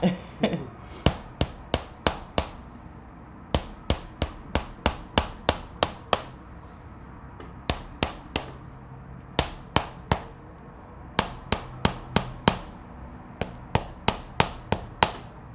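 Sharp, crisp taps from a massage hammer on a back come in quick rhythmic bursts of several strikes each, separated by short pauses, close and fairly loud.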